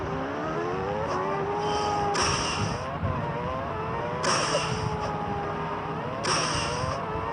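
A two-player racing video game plays car engine sounds, with steady revving drones and repeated whooshing pass-bys and shifts over a continuous loud bed.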